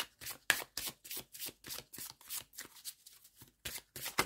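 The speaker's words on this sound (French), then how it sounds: "je tire une carte de la chamane pour la carte conseil" Shaman oracle cards handled and drawn from the deck, giving repeated close, crisp riffling and flicking bursts in an even rhythm, with a short pause near the end.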